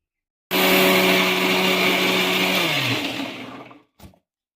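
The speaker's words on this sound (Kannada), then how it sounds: "ಈಗ ಗ್ರೈಂಡ್ ಮಾಡ್ಕೊಂಬರೋಣ." A mixer grinder whirs loudly as it grinds coconut and curry leaves, a steady high-pitched motor roar that winds down after about three seconds, followed by a short second burst.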